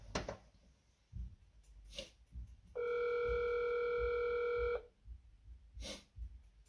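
Telephone ringing with a steady multi-tone electronic ring lasting about two seconds, loud and close, set between quieter background sounds and room noise.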